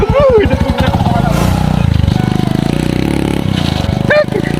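A motorcycle engine, apparently dead or faltering, sputters and revs with a choppy, uneven rhythm at close range, while people talk over it throughout.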